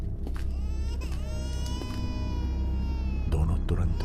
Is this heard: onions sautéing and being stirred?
no